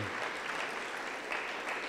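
A church congregation applauds joyfully during a service, a steady, fairly faint wash of clapping heard from a distance, with no voices over it.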